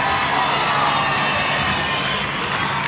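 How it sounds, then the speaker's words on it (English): A large crowd cheers and applauds steadily at a football grand final parade, a dense wash of clapping and shouts at constant loudness throughout. "Keep the applause going"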